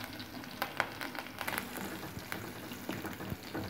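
Sliced shallots, dried red chillies and curry leaves frying in hot oil with popped mustard seeds, a steady close sizzle with sharp crackles and spits, no voices.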